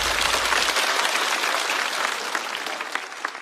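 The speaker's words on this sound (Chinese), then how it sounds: "再次掌声送给张慧。" A studio audience at a talk show applauds, a dense, steady wash of clapping that continues loudly throughout before tapering slightly.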